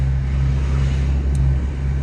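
A car engine idles or runs gently under light throttle, a steady low hum with strong rumbling tones throughout, heard from inside the vehicle.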